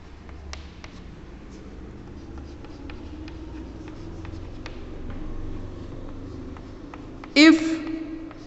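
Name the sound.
drawing on the board during an aeroplane lecture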